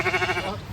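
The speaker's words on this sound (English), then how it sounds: "Wow, look at that sheep." Sheep bleating at a farm during animal feeding, a short wavering call up close, loud over the first half and then tapering off.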